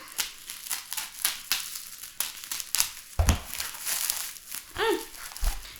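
Plastic film being torn and peeled off a bundle of individually shrink-wrapped books, giving repeated close crinkling, crackling and tearing bursts in an irregular rhythm, with a few brief voice sounds mixed in.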